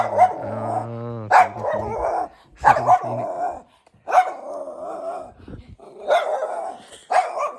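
A tethered dog in a small village among the tea gardens near Darjeeling barks repeatedly at passers-by in sharp, loud, close bursts with short pauses, one drawn-out harmonic yelp near the start.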